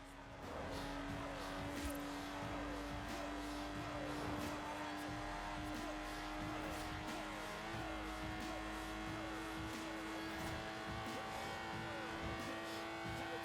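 A Lotus Exige races in Forza Horizon 4, its engine droning steadily and loudly with shifts in pitch as it accelerates, while tires squeal briefly through corners.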